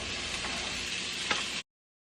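Garlic and onion sizzle in a pan over medium heat, giving a dense, steady frying hiss that cuts off abruptly after about a second and a half.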